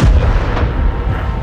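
Artillery fire in the video game Frontline: one loud, deep, rumbling boom that fills the short moment and does not fade, heavy in the low end.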